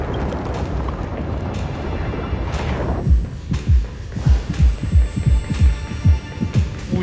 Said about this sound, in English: Oh damn, that heartbeat sound